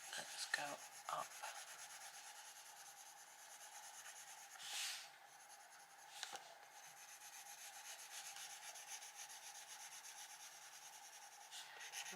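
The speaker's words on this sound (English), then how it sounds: "I always find it so hard colouring in the spine." Colored pencil strokes rubbing across paper while colouring near the spine of a Maria Trolle colouring book, a quiet, steady scratchy shading sound with a few brief louder scrapes and no talk.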